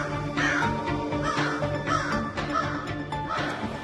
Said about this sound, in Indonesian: kok banyak burung gagak gitu sih